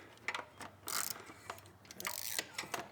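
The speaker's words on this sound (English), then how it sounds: "get yourself a ratchet and extension with a 12mm socket" A ratchet with an extension and 12mm socket works the exhaust bolts on a CFMOTO Gen 3 CForce 1000 ATV, giving short bursts of quick, close clicking.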